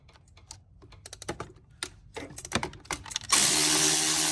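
Ratchet breaking loose an oil cooler housing bolt on a Mercedes M270 2.0-liter engine: a run of sharp clicking ratchet strokes in irregular bursts, close by, ending in a loud steady hiss.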